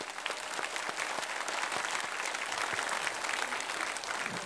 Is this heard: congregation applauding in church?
yes